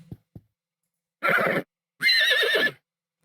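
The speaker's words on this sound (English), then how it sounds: "I'm going to listen to the neigh." Two video game horse neighs, the second longer and higher, ring out clearly after a couple of faint taps, with silence between and after.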